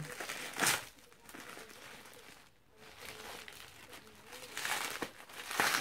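Crinkly, crackling rustle of tough packing tape being pulled and peeled from a parcel in bursts, close by, with short pauses between tugs.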